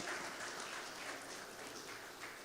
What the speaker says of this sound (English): Kindly welcome him with a hearty applause